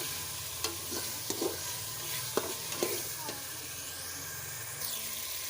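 Masala for pumpkin dal frying in a pan, a steady broadband sizzle with a few sharp clicks and scrapes from a spoon stirring, heard close with no one talking.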